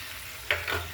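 Chopped onion, ginger, green chili and garlic sautéing in a pan with a pinch of asafoetida, giving a soft steady sizzle with two brief brighter bursts of stirring, close and fairly quiet.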